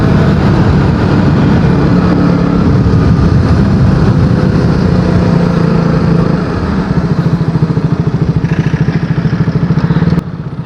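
A loud engine idles and rumbles close by, with other vehicles in the background, like road traffic at a standstill in Mangaon.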